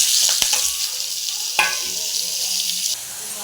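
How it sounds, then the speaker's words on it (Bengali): Tomatoes and whole garam masala frying in a pan for a vegetarian paneer dish, giving a steady close broadband sizzle with a couple of sharp utensil knocks and stirring scrapes, no talking. "গোটা গরম মশলা দিয়ে দিলাম এবারে এর সাথে দেবো টমেটোগুলো অ্যাড করে দিলাম"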